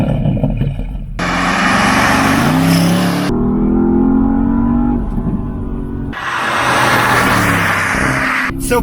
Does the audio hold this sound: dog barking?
no